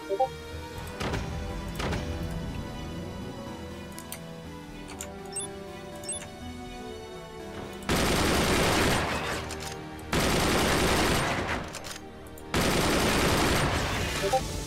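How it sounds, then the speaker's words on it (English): A minigun in the Forts video game fires in long, loud sustained bursts, three of them, with pauses between and quieter clicks and ticks before the first burst. "So build a minigun from scratch."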